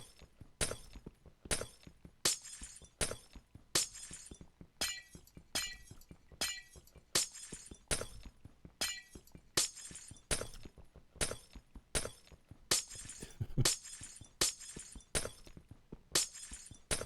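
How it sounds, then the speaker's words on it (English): Repeated glass shattering in a Minecraft-style hide-and-seek server game, loud crashes arriving in a steady rapid rhythm, roughly two per second, for the whole stretch with no talk. "I hope you like glass sounds."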